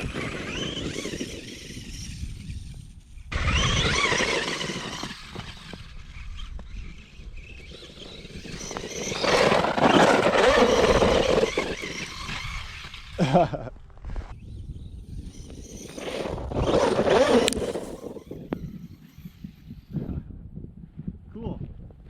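A RedCat Racing Camo X4 RC truck fitted with snow paddles runs at full throttle on 3S power, its motor whine surging and fading in long bursts amid wind noise and crunching, with a person talking over it.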